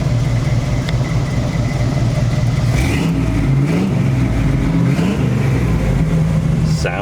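A 1977 Toyota FJ40 with a 4-speed runs close by, its engine rumbling steadily with several rising and falling revs in the middle.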